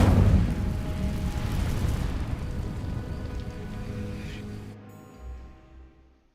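A fire spell in Hogwarts Legacy sets dry vines alight: a loud burst of roaring flame that crackles steadily, then thins and fades away.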